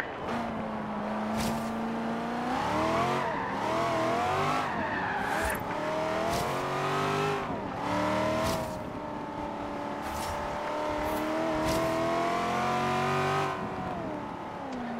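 Race car engine in the Forza Horizon 3 video game, revving loudly and continuously with rising and falling pitch through repeated gear shifts, punctuated by short tire squeals and bumps, close and prominent throughout.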